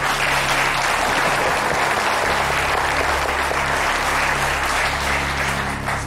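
On a televised quiz show, the studio audience claps in a loud, continuous burst of applause that holds evenly for about six seconds with no talking.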